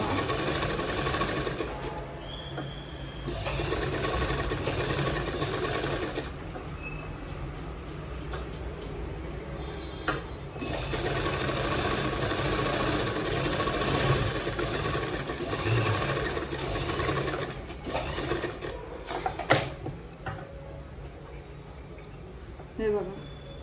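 Sewing machine stitching a girl's designer gown, a near, steady mechanical whirr running in long bursts with short stops, someone talking over it.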